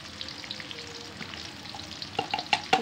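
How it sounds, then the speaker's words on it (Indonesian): Sliced and ground ginger with onion sautéing in a pan, a soft, fairly quiet sizzle with light stirring, ending in a few sharp clinks of a utensil against the pan. "Kita tumis dulu setengah matang"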